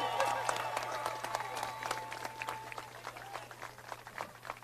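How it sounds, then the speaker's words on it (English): A faint, steady round of applause from a crowd at an outdoor city press conference and tower dedication ceremony, honoring beach lifeguards. Many overlapping claps under a low background hum, with some talk. "Let's give them a big round of applause for all of"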